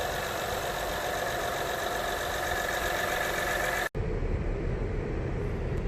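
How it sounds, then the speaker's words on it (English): A 2012 Honda Crosstour V6 idles steadily after a spark plug replacement, a close, even engine hum with no voices, cutting briefly near the end before the running resumes. "as you can see, the engine is smooth now"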